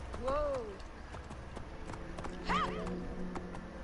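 A horse whinnies twice, a rising and falling neigh near the start and another a couple of seconds later, with soft hoofbeats between them at moderate level.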